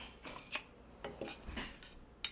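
Teak wooden kitchen utensils from a Woodenhouse set, including spoons, a slotted spatula and a soup ladle, being picked up and handled, giving several light, dry clacks and rubs close by with no talking.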